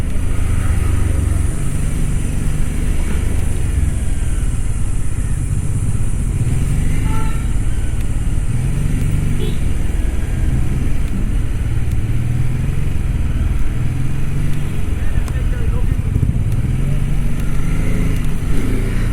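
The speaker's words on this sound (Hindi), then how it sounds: "इंजन स्मूथ है, पैरेलल ट्विन इंजन है, रिफाइनमेंट अच्छी है" A BMW F450GS with a parallel-twin engine being ridden, its steady, smooth engine drone and wind noise loud and continuous throughout, with a faint voice now and then.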